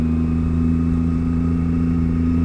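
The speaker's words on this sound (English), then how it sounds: "if I was to rev it like this per se with a clutch in, it might die." A Yamaha MT-09 motorcycle engine runs with the clutch in, a steady loud mechanical drone holding an even pitch throughout, with no talking.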